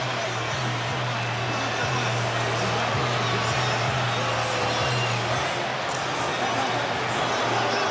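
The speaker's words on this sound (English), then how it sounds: "And you can hear the reaction from the crowd." A large boxing arena crowd roars in a steady, dense wash of cheering and noise, with a low hum running underneath.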